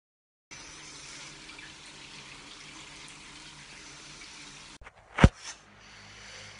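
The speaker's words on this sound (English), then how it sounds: "About to go shower and brush teeth" Steady running water from a shower or tap flows at low volume for several seconds, then cuts off, followed by a couple of sharp knocks and faint handling noises.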